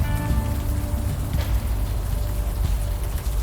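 Steady rain patters and hisses without a break through the ambience of the adventure game Unavowed, with a faint low tonal hum beneath the constant wash.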